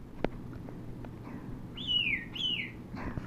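A baby pet bird chirping nearby, a few short clicks followed by two clear, loud descending whistled chirps in quick succession, then a faint trailing call, with no talking.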